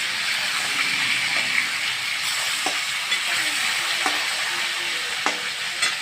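Catla fish fries in a pan with a steady close sizzle, broken by occasional sharp ticks and spatters over about six seconds of continuous frying noise.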